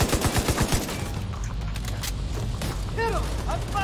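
Rapid gunfire rattles in a War Thunder battle, a quick burst of close, loud shots at the start giving way to mechanical clanks and creaks, with a few chirping tones near the end.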